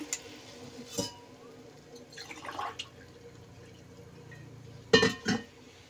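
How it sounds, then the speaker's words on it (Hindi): Water splashes and pours from a glass into a pressure cooker in a few short bursts, with soft drips and clinks in between, fairly close. "अब मैं इसके अंदर पानी डालूंगी ये मैंने एक गिलास पानी ले लिया है"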